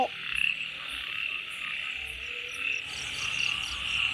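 Many frogs croak steadily in a dense chorus, a continuous pulsing drone with no voices, close and fairly loud.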